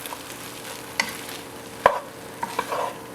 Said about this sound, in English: And go ahead and stir it in